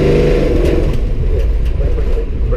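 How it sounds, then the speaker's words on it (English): A 1970 Chevrolet Camaro 427 revs hard as the tires break loose, a loud, close, rumbling engine roar that holds steady with slight surges. "So just give it like a little bit of throttle as if you're going to peel out"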